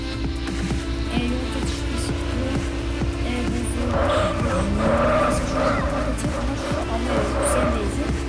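A car drifting in the video game Mad Out 2, an engine drone with tire squeals and skids layered over steady game audio, loudest midway through.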